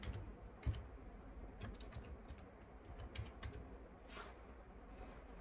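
Faint keystrokes on a computer keyboard as a password is entered, a few scattered taps with a sharper click near the start over a quiet hissing room background.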